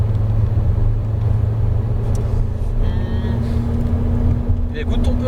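A McLaren sports car drives on a track, its engine a steady low drone with a rising tonal whine as it picks up speed, heard from inside the cabin.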